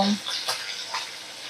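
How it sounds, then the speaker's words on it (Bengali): Fasa fish turned over and frying in hot oil, making a brief, close bubbling sizzle with soft scraping of the pieces being flipped. "আমি মাছগুলো এবারে উল্টে পাল্টে ভালো করে ভেজে নেব।"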